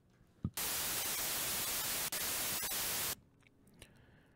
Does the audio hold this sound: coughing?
no